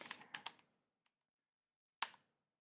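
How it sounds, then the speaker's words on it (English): A computer keyboard is typed on in short bursts of crisp, close key clicks: a quick cluster at the start, a lone tap, then a final pair after a pause, in an otherwise quiet room. "if I type it down here in the console"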